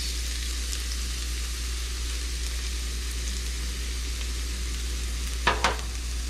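Garlic frying in hot oil in a pan, making a steady, close hissing sizzle with a brief scrape of stirring near the end; no talking.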